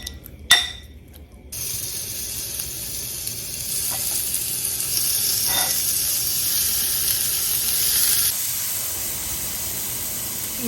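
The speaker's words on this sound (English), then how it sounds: "Now let's grill." Marinated shrimp hit a hot grill after a sharp click, then sizzle in a steady, close hiss that swells a little and holds for several seconds.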